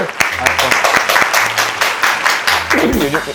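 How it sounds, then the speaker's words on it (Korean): A studio audience breaks into applause on a Korean talk show, a short burst of clapping with a voice calling out over it near the end. "자, 오늘 박수 한번 치겠습니다."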